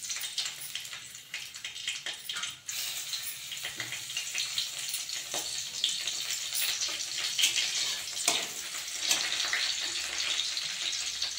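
Garlic and chili sizzling in hot oil in an Indian kadhai wok, a steady close crackling fry with occasional stirring scrapes, continuous and alone without talk.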